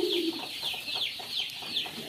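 Chickens cluck and call at a tiger chicken farm in Bakshiganj, Jamalpur, with several short repeated calls over a steady barnyard murmur and no talking.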